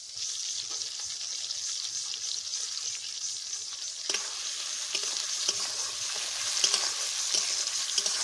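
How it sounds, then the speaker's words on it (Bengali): Chopped onions and tomato fry steadily in a pan with whole cumin, a continuous close sizzle with small stirring bumps and no talking. "পেঁয়াজগুলোকে হালকা করে ভেজে নিলাম।"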